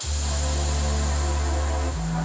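A loud, continuous deep bass rumble with a hiss over it from a damaged Klipsch subwoofer, dropping in pitch near the end.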